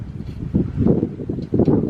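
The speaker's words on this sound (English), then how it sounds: "Pretty windy here. Breezy." Wind gusts buffet the microphone outside a long-abandoned brick house by a quiet road, a low rumbling roar that swells and fades in uneven waves.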